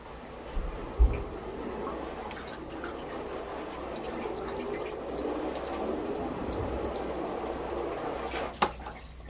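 Garden hose spraying water onto a waxed car: a steady hissing wash of water at moderate level, with a couple of soft thumps near the start and end.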